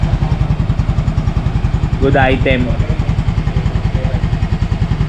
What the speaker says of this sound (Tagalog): Ganda guys ang andaran. Napakatahimik ng makina niya.